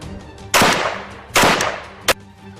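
An assault rifle fires three sharp shots spaced unevenly, each a loud crack with a short, echoing tail that fades before the next one.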